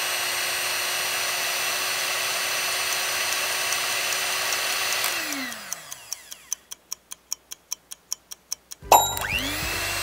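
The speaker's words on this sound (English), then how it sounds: "It's a hand mixer." A household hand mixer whirs steadily, then winds down with a falling pitch, followed by a string of regular ticking clicks and a final sharp clunk.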